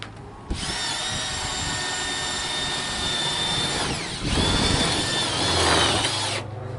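A power drill drives a self-tapping screw into a gate rail, its steady high whine running loud and close for about six seconds, dipping briefly midway as the screw bites and then rising again before it stops.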